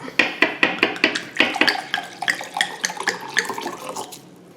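Wine is poured into a glass in a home kitchen: a steady series of close, rhythmic glugging splashes for several seconds that ends with a soft trickle.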